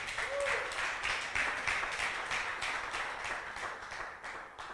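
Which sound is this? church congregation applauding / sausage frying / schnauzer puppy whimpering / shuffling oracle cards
church congregation applauding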